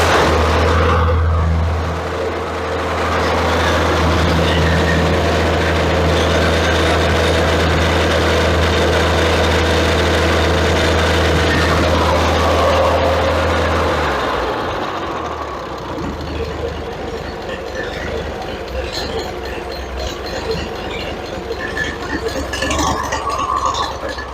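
A rebuilt 1966 International 656 tractor engine idles steadily and loudly up close with a deep low hum, then the tone shifts midway as the throttle changes, a faint rattle running through it.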